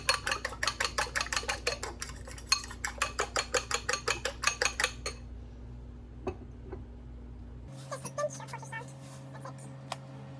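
Eggs for an omelet are whisked in a bowl, a rapid rhythmic clinking of a utensil against the dish for about five seconds, followed by a few scattered taps and a brief stretch of kitchen noise.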